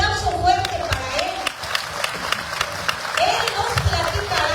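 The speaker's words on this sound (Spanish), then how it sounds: "Por favor, un aplauso fuerte para él." Applause rises from an audience at a live book presentation, a steady wash of clapping with crowd noise behind it, moderately loud and continuous across the moment.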